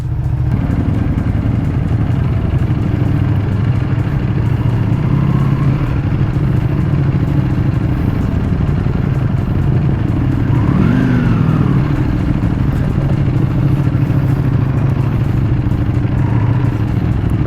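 A loud Ducati Panigale superbike engine idling with a deep, steady rumble in London, with a brief rev rising and falling midway, close and continuous throughout.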